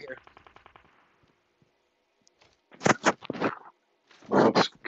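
Gunfire in a multiplayer shooter video game, a quick rattling burst at first, then several loud separate bangs and cracks, with quiet gaps between them.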